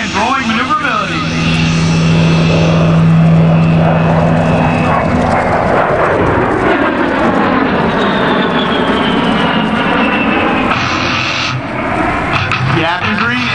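A 35,000-pound A-10 jet rolling rapidly during an airshow demonstration, its loud, sustained engine roar shifting in pitch as it passes along the show line, with an announcer talking over it.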